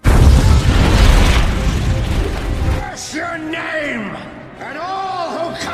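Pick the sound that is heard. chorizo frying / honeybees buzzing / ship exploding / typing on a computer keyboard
ship exploding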